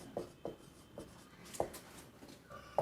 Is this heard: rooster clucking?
no